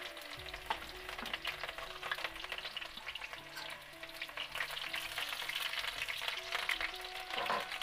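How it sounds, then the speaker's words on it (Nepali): Chow mein frying in a pan for a birthday meal, a dense steady sizzle with scraping stir sounds and low background hum running throughout, fairly close and with no talking. "गाइस म चाहिँ चाउमिन पकाउँदैछु आज मेरो छोराको बर्थडेको लागि"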